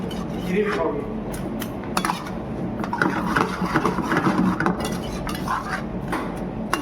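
Beetroot halwa with sugar is stirred in a pan with a spoon, making steady close scraping and clattering against the metal, with a voice talking over it.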